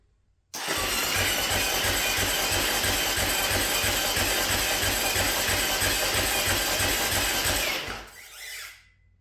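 Husaberg FS570 motorcycle engine, a 2011 single, cranked over by the starter with the spark plug out and fuel pump disconnected: a steady, loud, fast whirring chug for about seven seconds before winding down.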